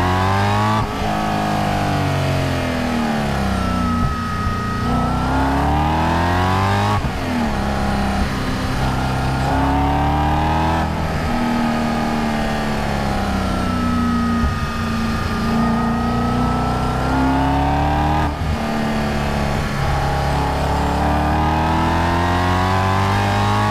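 A supercharged stage 3 Audi RS4 revs hard from inside the cabin, its engine note sweeping up through repeated acceleration pulls with brief drops at gear changes, loud and continuous throughout.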